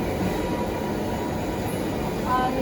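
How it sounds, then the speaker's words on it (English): A high-speed SMT pick-and-place machine in a PCB assembly factory gives off a steady, dense mechanical rumble with a faint high whine, and a voice speaks over it. "This is also another high-speed SMT machine."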